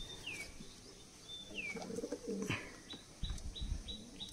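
Giribaz pigeons in a village loft give soft coos and short chirping calls, with a brief flutter of wings partway through, all fairly close and quiet.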